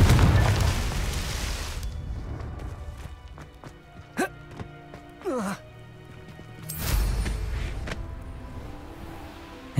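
Confringo fire spell exploding in the Hogwarts Legacy video game: a low rumbling ambience with a few small pops, then one loud, booming burst rolling out before fading back to quiet.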